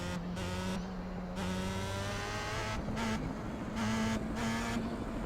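A Star Mazda race car in the iRacing sim at Watkins Glen, its engine droning steadily with tonal whine shifting pitch through gear changes and throttle lifts, alone without talk.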